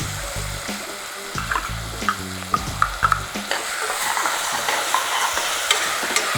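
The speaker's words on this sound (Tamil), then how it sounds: "இப்போ இந்த இஞ்சி பூண்டை நான் போட்டுடுறேன்." Ginger and garlic tossed into hot oil for a mutton fry, crackling steadily nearby while a utensil clicks and scrapes against the pan in scattered bursts, with a low hum early on.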